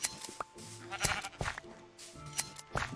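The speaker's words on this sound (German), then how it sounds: "So, gebt mir eure Wolle, ihr Schafe." Sheep bleat in Minecraft, several short nasal cries scattered over a few seconds amid soft game ambience, fairly close and moderately loud.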